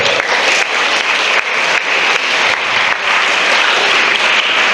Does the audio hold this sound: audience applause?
yes